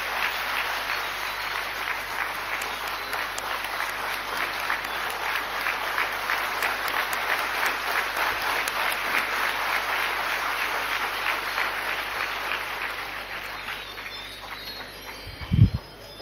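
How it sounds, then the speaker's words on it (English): Audience at a World Space Week valedictory function gives a standing ovation, sustained dense applause holding steady for about fifteen seconds before tapering off, ending with a brief thump. "let us give big round of applause with the standing ovation"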